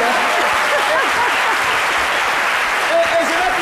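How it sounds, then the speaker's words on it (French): A studio audience gives sustained, steady applause that stays dense and even throughout, while a voice speaks over the clapping. "Même le public est là, vos applaudissements là, c'est de la littérature."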